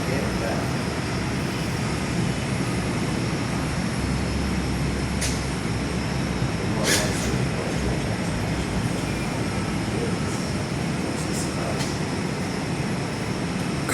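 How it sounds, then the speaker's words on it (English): Qantas Fokker 100 jet departing at Perth airport, heard from an indoor viewing platform as a broad, continuous engine roar at steady loudness, with a few brief clicks and knocks nearby. "Qantas's F100's now departing as the Qantas M37 in front of me is pulling into the gate."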